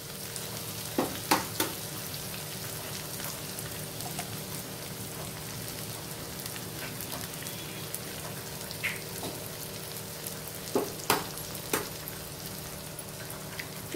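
Two eggs frying in oil among vegetables in a pan for egg noodles, a continuous crackling sizzle with a few sharp pops and spatters, close and steady without any voices.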